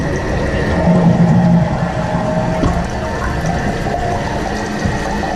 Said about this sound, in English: You can give it a quick flush.